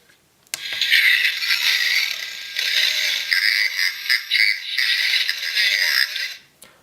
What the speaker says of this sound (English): That one sounded like a growl or a roar at the beginning